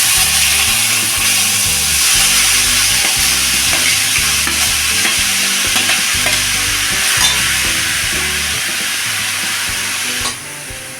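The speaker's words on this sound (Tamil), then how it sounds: "இப்போ இதே நெய்யில் நம்ம துருவி வச்சுருக்கிற சுரக்காயை இதில் சேர்த்து வதக்கிக்கலாம்." Grated bottle gourd sautéing in ghee for a healthy payasam, with a steady sizzle under repeated scraping and stirring strokes of a spatula against the pan, close and continuous until an abrupt drop near the end.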